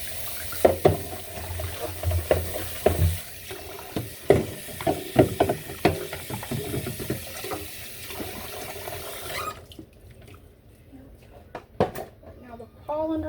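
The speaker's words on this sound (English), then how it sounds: "I'm going to wash the crock pot really good, rinse it out really good" Tap water running into a kitchen sink while a crock pot is rinsed out, splashing and clunking in irregular bursts under talk, then the flow cuts off, leaving quieter drips and handling noises.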